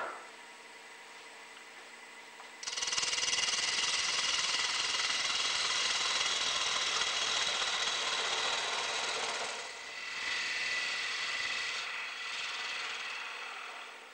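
A wood lathe spins a turning blank while a bowl gouge trues the face, a loud continuous rough cutting hiss with slight swells and dips, running alone after a quieter motor hum at the start.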